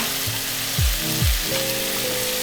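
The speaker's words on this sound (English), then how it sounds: "We're gonna add the yellow onions in now." Yellow onions fry in a pan for a Filipino pinakbet, giving a steady close sizzle with a few low thuds and scrapes as they go in and are moved around.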